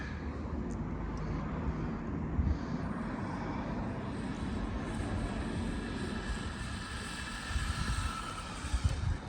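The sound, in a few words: Losi 1/12 NASCAR RC car speed run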